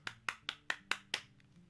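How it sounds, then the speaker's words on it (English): Six brisk, evenly spaced hand claps, close and fairly quiet, with no talking over them. "Just round of applause."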